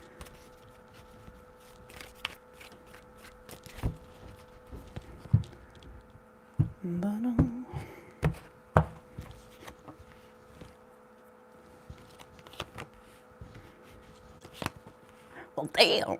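Tarot cards are shuffled in several quick riffles and soft slaps, scattered over a quiet background with faint room noise.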